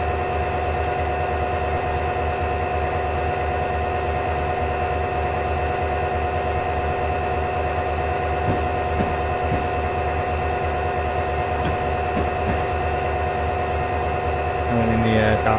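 A diesel locomotive engine in Train Simulator 2013 on Marias Pass drones steadily with a low, even hum and layered tonal whine throughout, loud and continuous, with a few faint clunks near the end.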